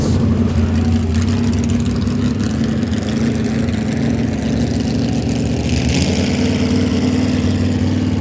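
Car engines start, then rumble and idle loudly nearby, a steady low drone that shifts pitch partway through as one revs up.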